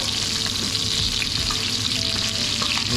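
Chicken pieces for paprikash sizzle and crackle steadily in a hot pan, a close, continuous frying hiss with a few soft scrapes as the golden pieces are turned over.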